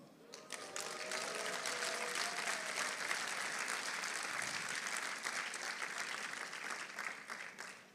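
A large convention audience in Dallas bursts into sustained applause, a thick, even wash of clapping that holds steady for several seconds with a few faint voices mixed in.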